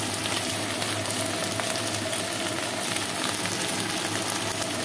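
Vegetables half-frying in a pan with salt and turmeric give off a steady, even sizzle that stays close and constant throughout, with no voices over it.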